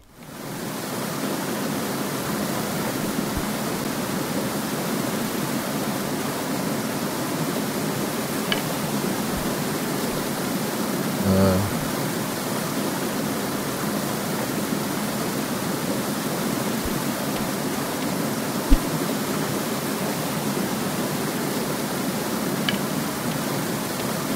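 Steady, even rush of falling water from a waterfall beside a fishing spot in the video game Graveyard Keeper, a constant broadband roar running unbroken throughout with a few faint clicks and no talking.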